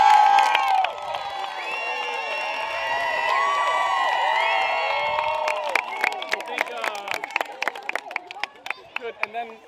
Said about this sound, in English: Turn around, give your family a round of applause.